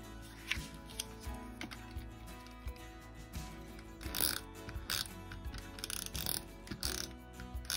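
Scissors snipping off the edges of a layered paper card piece during handmade card making, a run of close, soft crisp cuts and rustles with brief pauses, no talking.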